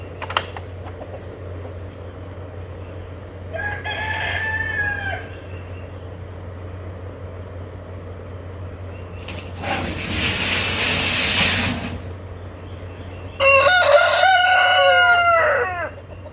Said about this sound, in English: let's get these roosters over there